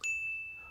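A single bright bell ding from a notification sound effect rings out clearly and fades over less than a second.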